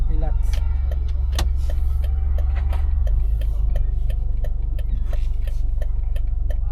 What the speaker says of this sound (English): So let's go for a test drive of this Toyota Hilux Surf